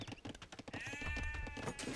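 Sheep bleating in the Age of Empires strategy game, a drawn-out wavering bleat over busy clattering game sounds.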